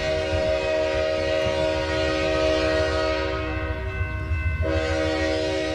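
A train horn sounds as a loud, sustained blast of layered tones with a low rumble of rolling rail cars beneath, the chord shifting pitch briefly near the end.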